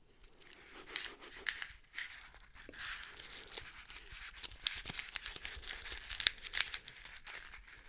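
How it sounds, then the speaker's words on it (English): Onions handled up close for ASMR, giving a steady run of crisp crinkling, tearing and papery crackling with dense irregular rustles, fairly quiet and with no talking. "Let's make some sound with these onions"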